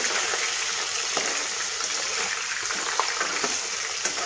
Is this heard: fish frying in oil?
yes